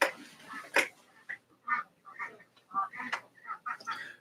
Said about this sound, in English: Do you hear that? I think the ducks are at the foot of the steps.